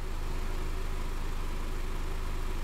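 A car engine idles smoothly and quietly after an engine wash, a low steady hum with a faint even mechanical pulse and no revving.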